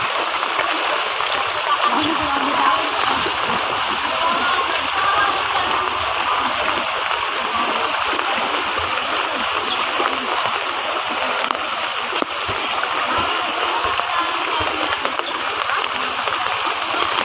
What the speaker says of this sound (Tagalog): Grabe, ang lakas ang bukal ng tubig din eh.